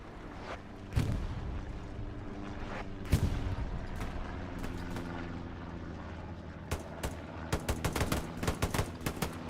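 Machine gun fire and other gunfire in the video game Hell Let Loose, with heavy booming shots, then rapid bursts of crackling automatic fire toward the end over a constant battlefield rumble.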